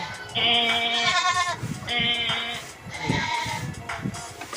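Goats bleat on a farm: three loud, drawn-out wavering calls come one after another, close by, with some faint background noise in between.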